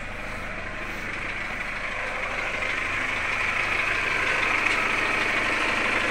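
A Chevrolet Captiva petrol engine idles roughly and steadily just after starting, oil not yet circulated, a continuous noisy rattling hum that grows slightly louder over the clip, with no voices.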